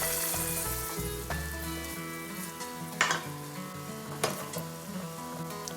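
Shellfish frying in a little olive oil over medium heat, making a continuous close sizzle with a few brighter spits and bursts partway through, alone without any talk.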